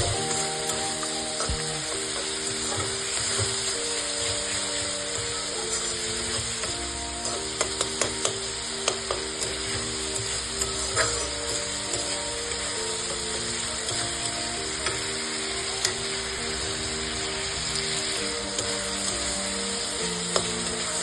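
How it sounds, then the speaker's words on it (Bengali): Spice masala with tomato and salt fries in oil in a pan, a constant loud sizzle joined by intermittent scraping and stirring clicks, with no talk. "মশলাটা খানিক কষেছে, পাশ দিয়ে তেল ছেড়ে আসছে।"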